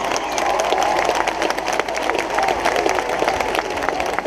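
A concert crowd loudly applauds a singer at an outdoor nature festival, a dense, sustained roar of clapping with some cheering mixed in.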